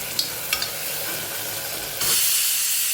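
Manchurian mixture with potato, green chili and garlic sizzles steadily in a hot pan while being stirred, with a few light scraping taps early and a louder burst of hissing frying partway through.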